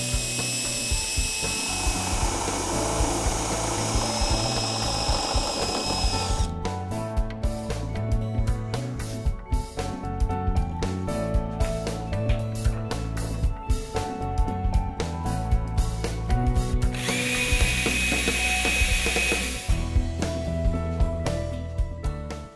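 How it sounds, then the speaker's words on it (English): A drill with a 3/4 inch wood bit grinds steadily through a wooden nightstand for a long stretch, with a rough, rasping texture and shifts in pitch as the bit cuts deeper. "I'm using a 3/4 inch wood drill bit."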